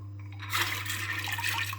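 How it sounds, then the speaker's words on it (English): Tap water gushes steadily into a saucepan of split peas, a close continuous splashing rush that starts abruptly and runs to the end over a low hum. "So just fill the saucepan with enough water just to cover the split peas."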